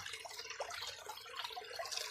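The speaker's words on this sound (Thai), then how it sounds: "ดูน้ำตกไหลพุ่งออกมา แบบนี้ครับ" A small DIY garden waterfall fed by a 12V DC pump splashes in a steady, soft, close trickle with light bubbling throughout.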